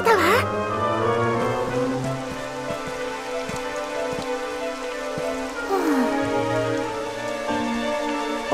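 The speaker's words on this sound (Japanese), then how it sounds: "やだ、雨が降ってきたわ。" Steady rain falls in the Dragon Quest XI S video game during a mountaintop climb, a constant soft hiss running under layered game music for the whole stretch.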